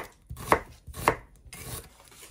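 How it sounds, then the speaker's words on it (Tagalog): A knife chops onion into small pieces on a board with three distinct thuds, close and clear, and no voices. "hiwain natin ng maliliit yung sibuyas"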